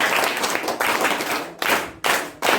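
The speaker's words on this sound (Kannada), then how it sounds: "ರಾಧಾ ಚಪ್ಪಾಳೆ" An audience at a children's story-reading event claps in short bursts, sharp bright rounds that stop and restart several times, close and fairly loud.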